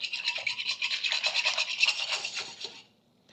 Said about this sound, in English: this Dutch whisk is a lifesaver